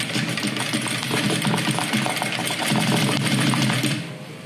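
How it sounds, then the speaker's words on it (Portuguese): Sewing machine running a seam end to end on a double box-style zip case, a fast continuous mechanical rattle lasting about four seconds, close and fairly loud, then slowing to a stop. "A gente vai passar uma costura de ponta a ponta agora."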